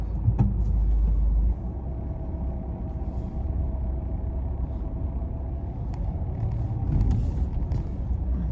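A car edges in close to the curb to park, giving a low, steady engine rumble with a heavier thump at the start and a slight swell near the end, close by with no talking.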